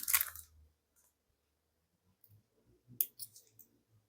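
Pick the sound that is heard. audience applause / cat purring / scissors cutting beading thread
scissors cutting beading thread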